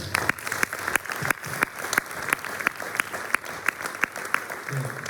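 Audience at a final municipal election campaign rally applauds steadily, a dense wash of clapping with sharper individual claps standing out, moderately distant and continuous throughout.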